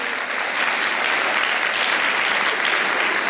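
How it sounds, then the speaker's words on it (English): An audience at a showjumping roadshow claps steadily for two stallions, a dense, even round of applause that fills the whole stretch without any talk. "Perhaps we can have a big round of applause for these two stallions."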